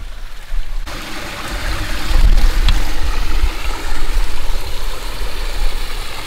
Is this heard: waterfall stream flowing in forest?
yes